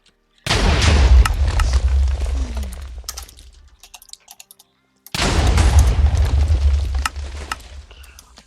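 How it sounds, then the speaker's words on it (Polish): Gunfire from a guild-versus-guild real-time strategy video game, heard as two loud, sustained bursts of dense shooting with a quiet gap between them and no voices. "Pierwsze pięć strzałów pojedynczo."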